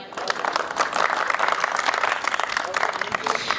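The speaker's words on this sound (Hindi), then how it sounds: "मेरे सम्मान में आपने जो घनघोर तालियां बजाई हैं" Thunderous audience applause at a Hindi comic poetry recital, a dense continuous wash of many hands clapping, loud and sustained throughout.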